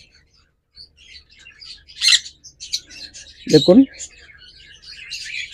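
Lutino red-eye Fischer's lovebirds, a bonded breeding pair, give bright, rapid chirps and tweets in a scattered rhythm, with a louder burst near the middle where someone briefly speaks.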